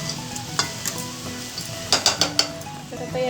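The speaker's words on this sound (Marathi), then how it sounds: "व्यवस्थित परतून घेऊया." Boiled baby jackfruit being sautéed and stirred in a pan for a traditional Konkani vegetable dish, with a steady close sizzle broken by several sharp spatula scrapes and clinks against the pan.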